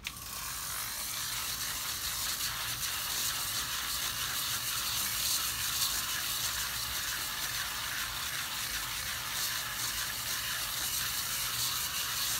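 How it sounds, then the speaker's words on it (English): A continuous whirring, buzzing lint shaver motor runs steadily over a printed shirt with a gritty scraping texture, close and even throughout with no talking. "And this is a lint shaver."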